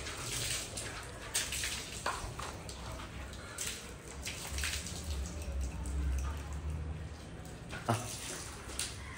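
Water splashes and pours steadily over a Khillar cow during a hot-water wash, a continuous close wet rush with scattered sharper splashes throughout.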